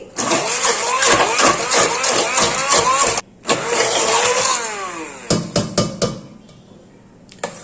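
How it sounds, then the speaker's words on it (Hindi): A hand blender grinding mustard greens whirs loudly in a long run, cuts off briefly, runs again, then gives a few short pulses before going quiet. "मैं यहाँ हैंड ब्लेंडर का यूज करूंगी।"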